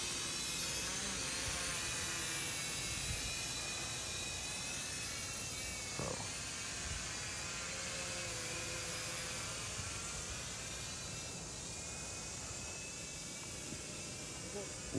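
An SHRC SH7 quadcopter drone in flight gives a steady, high-pitched whine and hiss that holds at an even level throughout, with someone talking over it.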